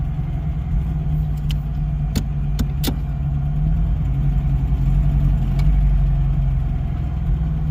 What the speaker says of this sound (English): So idle tuning is a little bit on the aggressive side, meaning that it idles a little bit high